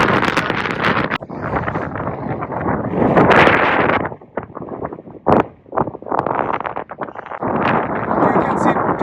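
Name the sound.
strong wind blowing on a mountain hike up Scafell Pike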